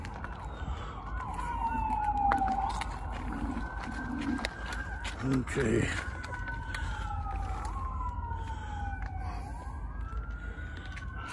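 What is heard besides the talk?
ambulance siren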